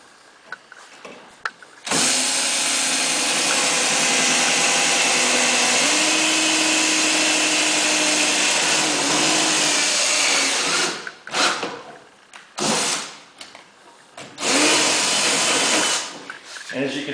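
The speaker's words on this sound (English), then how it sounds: "I'm going to simply drill and finish drilling out the pilot holes." A power drill drilling pilot holes for a racecar parachute installation whines loudly and steadily for several seconds, then stops and restarts in short bursts, with brief pauses between runs.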